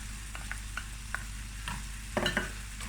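Chopped onion sizzles and crackles steadily in olive oil in a hot pan, with a few stirring scrapes and a brief louder burst near the end.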